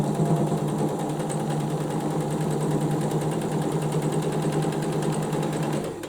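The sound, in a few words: sewing machine stitching a cushion cover seam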